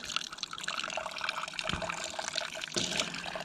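Fuel drains from a 105cc mini bike tank in a continuous liquid trickle and splash, with a couple of brief knocks partway through.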